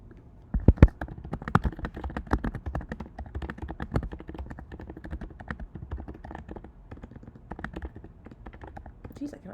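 Clacking of keys on a computer keyboard, an uneven burst of close taps that starts loud and settles into steadier, quieter typing.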